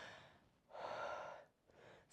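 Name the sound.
deep breath in before singing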